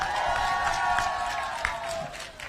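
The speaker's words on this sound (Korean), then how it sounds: "자, 큰 박수를 보내주십시오." A crowd at an election campaign rally in Namwon, North Jeolla, applauds and cheers in a dense, sustained wash of clapping, with amplified speech or music ringing over it.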